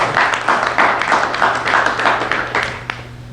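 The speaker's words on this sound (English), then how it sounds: "So round of applause for our sponsors." An audience at an entrepreneurial resource panel claps for the sponsors, a modest scatter of hand claps in uneven pulses that thins out toward the end, over a faint steady hum.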